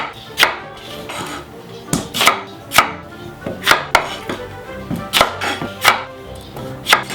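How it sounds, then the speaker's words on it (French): Potatoes being cut in half with a knife on a board, a series of sharp, loud chopping thuds about once or twice per second, close up, with a few quieter handling sounds between strokes. "Pommes de terre coupe 2 et 2."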